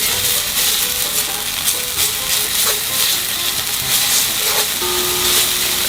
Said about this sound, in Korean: 마늘 한 스푼 넣고 먼저 볶아주세요.